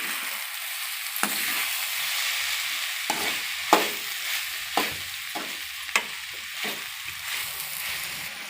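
Mixed vegetables sauté in oil for a chapati stuffing, with a bright hissing sizzle and a series of sharp spatula scrapes and taps against the pan at irregular intervals, with no talking.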